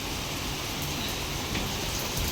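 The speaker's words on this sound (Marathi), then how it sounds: "पाऊस इतका जोरात येत आहे" Heavy rain pours down in a steady, dense hiss, loud and unbroken throughout.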